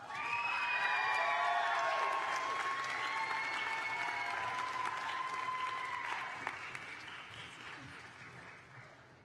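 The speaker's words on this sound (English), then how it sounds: "Can we give another round of applause for Kaiten?" A graduation crowd at the Shadle Park class of 2024 ceremony claps loudly, with scattered cheers and whistles mixed in, before the applause gradually tapers off.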